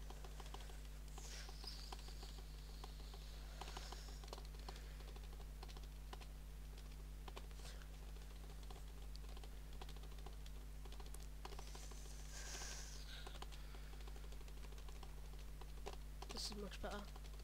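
Rapid, uneven clicking of a computer keyboard during a spacebar test, with repeated taps, occasional louder clacks and a steady low hum behind them.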